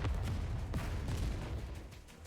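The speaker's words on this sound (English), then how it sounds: "Commander, explosions up ahead." A rapid, rumbling string of explosions and gunfire-like bursts in the Nikke Stellar Blade collab video game, dense and low and heard at a moderate distance, with overlapping booms and no clear gaps.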